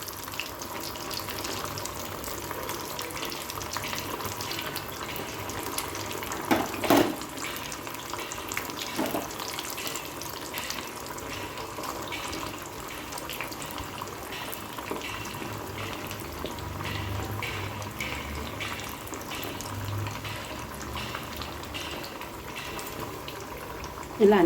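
Pieces of elephant foot yam fry in hot oil with a steady, even sizzle and hiss that runs throughout at moderate volume, marked by a few sharper pops.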